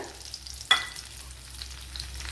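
Chopped carrots frying in ghee in a pan, a soft, steady low sizzle with one sharp clink of a utensil early on, otherwise quiet and even.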